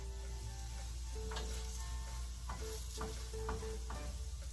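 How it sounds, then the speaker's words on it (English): Food sizzles and crackles steadily in hot oil close by, with occasional louder pops and some scraping as it is stirred. "Ooh! It's sizzling! It's sizzling!"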